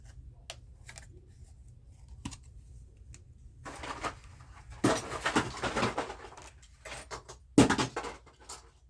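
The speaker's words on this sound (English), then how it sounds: "that was the sound of a big pile of cars falling over" A burst of clattering plastic and diecast metal as a pile of Hot Wheels toy cars topples, a rattling cascade of small clicks and knocks, then a final sharp clatter.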